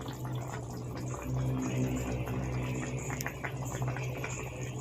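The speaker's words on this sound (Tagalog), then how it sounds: "Huwag haluin at hayaang kumulo." Pork and chicken adobo simmering in a pot, a steady low bubbling boil that stays even and close throughout, with no talking.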